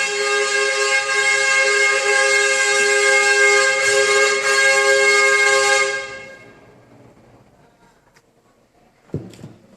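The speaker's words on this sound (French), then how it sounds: "Oui, ils viennent prendre les poubelles en journée et ils klaxonnent comme ça." A garbage truck's horn blares in one long continuous honk for about six seconds, then cuts off into near silence, broken by a brief thud.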